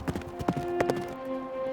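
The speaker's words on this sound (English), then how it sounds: "She mounts her horse." Horse hooves clop in an uneven rhythm as a rider sets off on horseback in an English countryside setting, several close hoof strikes over a steady background tone before fading.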